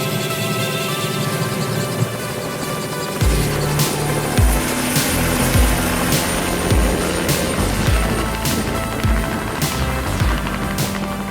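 Steady mechanical roar of a helicopter in flight, with rhythmic low thumping from the rotor blades throughout, loud and close.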